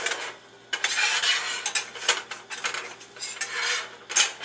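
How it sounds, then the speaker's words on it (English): A metal spatula scrapes and slides beneath a tomato and mozzarella panini in a skillet, producing a run of close, gritty metallic scraping bursts that rise and fall over several seconds with no talking. "Get our spatula under there."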